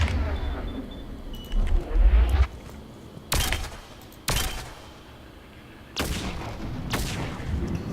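Scorpion pistol firing in Mass Effect 3: a handful of sharp, loud cracks spaced a second or so apart, some in quick pairs, over a quiet low game ambience.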